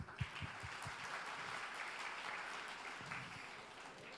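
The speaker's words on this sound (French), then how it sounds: "Bravo, on peut l'applaudir." Audience at a gaming talk applauds with a few distinct claps at the start, then settles into a steady, fairly faint wash of clapping that continues to the end.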